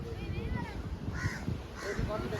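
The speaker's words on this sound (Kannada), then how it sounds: "ಕಾಗೆ ಇಲ್ಲೊಂದು ಬಂತು." A crow caws a few times near a white pigeon outdoors in Sri Lanka, the calls mixed under steady close conversation.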